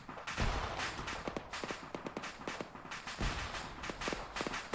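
Gunfire in the military video game Arma 3, several sharp shots and a burst of rapid cracks over a low rumbling background, fairly distant and without talk.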